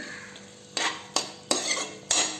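Minced mutton being mixed with salt in a metal vessel, four sharp spoon scrapes and knocks spaced about half a second apart over a faint low sizzle.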